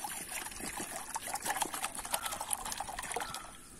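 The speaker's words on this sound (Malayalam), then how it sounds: "ഒരു ചുർക്ക ഒന്ന് പൊട്ടിച്ചിട്ട് ഇതിലേക്ക് ഒഴിക്കാം" Vinegar is poured from a freshly opened bottle into a bowl for soaking gas burners, a close, trickling, gurgling stream with irregular splashy pulses, fading out at the end.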